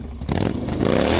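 A motorcycle engine revving, a rough rising roar with clattering, crackling texture that builds and holds, close and loud.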